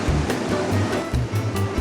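Ocean surf crashing in strong wind on an overcast, rainy day at a beach, a steady broadband roar of breaking waves with low gusty rumbles, close and fairly loud, no voices.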